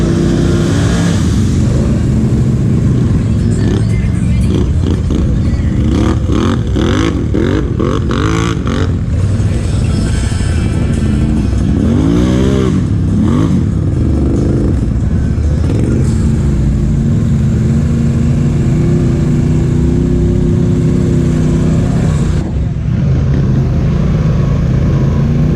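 A Polaris Scrambler ATV rides a trail at Tall Pines ATV Park, its engine loud and close, revving up and down in repeated surges with rising and falling pitch sweeps over steady rumble.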